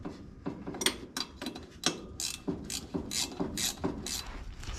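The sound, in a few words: snugging bolts on a 1966 Ford pickup drive shaft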